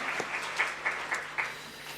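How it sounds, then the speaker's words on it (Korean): A short burst of applause from a church congregation at a Sunday service, clapping steadily for about two seconds in a reverberant room, with a few sharper claps standing out. "박수로 격려하겠습니다"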